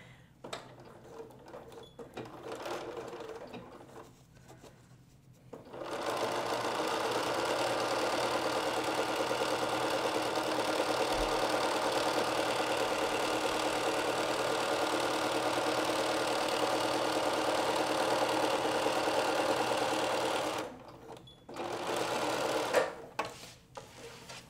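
A domestic sewing machine runs steadily for about fifteen seconds while stitching a bolster pillow, a close, even mechanical whirr between quieter stretches of handling noise, with no talking.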